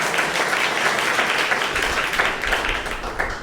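Loud, sustained applause from a retreat audience, dense overlapping clapping filling the room without a break.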